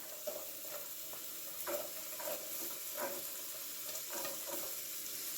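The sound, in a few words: carrots added to a sizzling pan with chicken and rice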